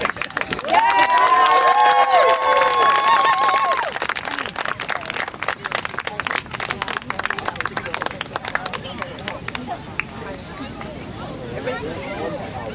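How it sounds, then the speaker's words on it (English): Wedding guests cheering and clapping, loud whoops and a crowd roar at first, then a long run of scattered claps and voices that gradually thins out. "One more cheer for the"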